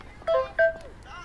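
A mobile phone text message alert sounds as two short electronic tone bursts in quick succession, fairly faint against a noisy background.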